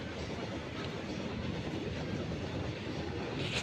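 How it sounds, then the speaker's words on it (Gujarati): A train rumbles past in open, windy country with a steady roar and rhythmic clatter of its wagons, and no voices. "જો તો ટ્રેન જાય છે."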